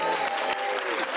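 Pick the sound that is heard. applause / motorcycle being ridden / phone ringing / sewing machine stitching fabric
applause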